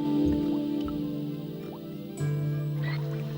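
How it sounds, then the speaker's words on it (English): Rusty faucet in Broken Sword creaking, coughing and spewing rust-coloured water: a low sputtering gurgle with small drips, then a steadier hum of flowing water, close and moderately loud, no voices. "The faucet creaked, coughed and spewed out a stream of rusty-colored water"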